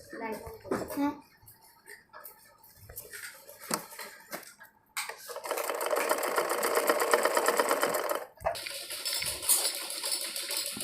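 Sewing machine stitching along a fabric edge of a child's circular frock, starting after some scattered handling clatter and running in two steady bursts broken by a short pause, with a voice speaking near the start.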